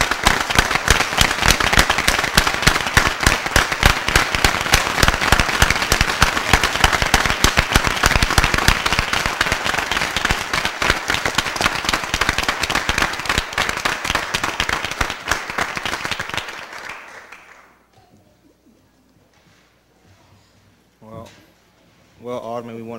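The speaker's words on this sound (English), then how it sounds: "Let's give Alderman Kennedy a big round of applause." Loud, dense applause from an audience at the St. Louis Board of Aldermen's closing session, honoring Alderman Kennedy, sustained for about sixteen seconds before fading out, followed by quiet and then a voice speaking.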